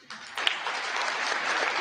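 Applause from a played recording, a steady, moderately loud burst of many hands clapping that rises quickly and holds evenly, heard alone without talk.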